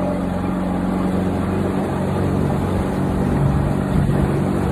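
A boat engine idles and runs steadily at a moderate level, with a continuous low hum and some wind noise.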